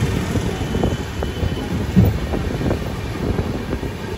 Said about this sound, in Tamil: வைகை எக்ஸ்பிரஸ் வைகை ரிவர் மேலே போகிற ஒரு சூப்பரான ஒரு சீனுங்க.